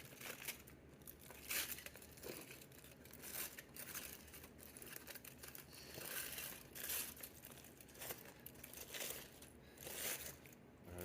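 An aluminum foil packet of stove-top roasted fish is unrolled by hand, giving soft, faint crinkles in uneven bursts.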